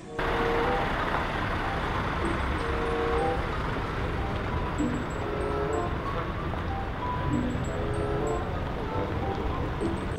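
A toy container truck's electronic engine sound plays a continuous loud rumbling drone with faint beeping tones, close and steady for about ten seconds with no talk over it.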